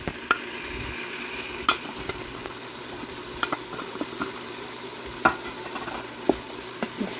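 Garlic sautéing in an Instant Pot as it gets stirred: a steady soft sizzle with light scrapes and small clicks of the spoon scattered throughout, close and clear.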